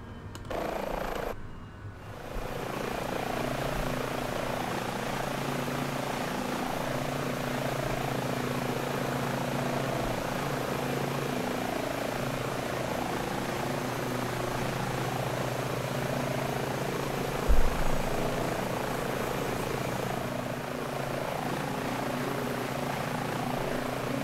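Steady whine and rotor drone of an H145 helicopter's engine settling to idle in Microsoft Flight Simulator 2020, a constant, even hum with sustained tones lasting the whole stretch, briefly dipping near the start.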